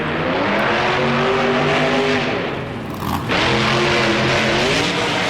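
Monster truck Brodozer in the BeamNG driving game at a Monster Jam in Camping World Stadium, engine droning loud and steady with rising and falling pitch as it jumps, dipping briefly mid-clip before roaring back.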